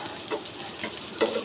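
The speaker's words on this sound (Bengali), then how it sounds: "আমরা চিকন বেগুনগুলো ভাজা করে নিতে পারি" Thin eggplants fry in hot spiced oil, a short low sizzle with a few soft stirring scrapes, close by and quiet.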